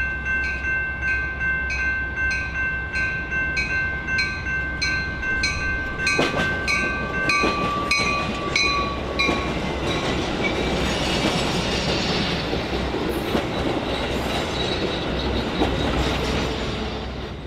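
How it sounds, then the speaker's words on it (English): An eastbound Metra commuter train on the BNSF line rolls in loud and close, with a horn blast and steady rail clatter, then wheel noise and rumble as the locomotives and bi-level cars pass. "A short time later, one of the regular eastbounds comes rolling in."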